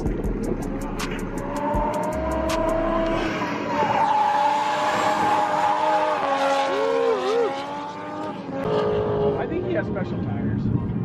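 Drift car tires screeching and skidding at a drifting event in Walla Walla, a long loud squeal with engine roar at a distance while spectators talk over it.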